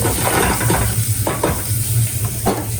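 Diced red onion and mushroom sizzle loudly in melted butter in a hot pan, a close, continuous hiss with a few louder bursts as the pieces are moved around.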